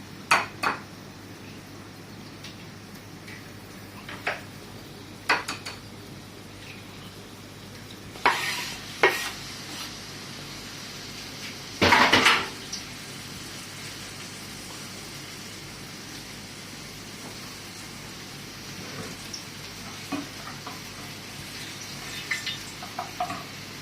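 Eggs and onion frying in a pan for an Arabic omelette, with a steady faint sizzle under scattered scrapes and clinks of a utensil stirring against the pan, including one louder rattling burst, with no talk.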